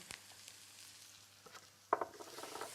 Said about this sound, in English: now that that's sizzling